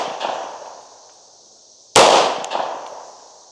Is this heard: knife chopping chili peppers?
no